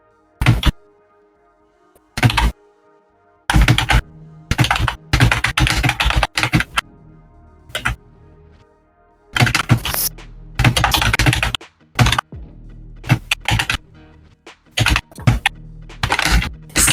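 Rapid, frantic clicking on a computer keyboard comes in loud bursts of keystrokes separated by short pauses, close up with no talking.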